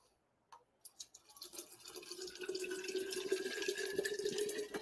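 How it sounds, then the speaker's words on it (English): Water is poured into a container indoors, a few taps at first, then a steady stream whose pitch rises as the vessel fills, close and fairly quiet. "Let me try to pour this water real quick."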